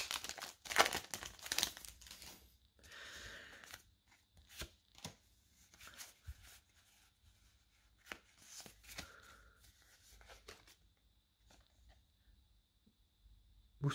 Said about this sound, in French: Il me reste 3 boosters à ouvrir.